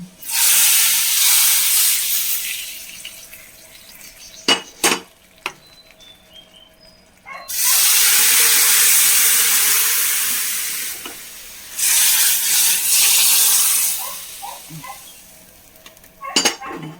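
A hot tempering for sambar is poured into the curry and sizzles in loud, close hissing bursts. Between the bursts come short gaps with a few clinks of a utensil against the pot.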